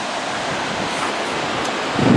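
Surf and wind along the Oregon coast at Bandon, a wooded shoreline strewn with logs: a steady, continuous broadband wash of waves and blowing air, fairly loud and even throughout, swelling slightly near the end, with no voices.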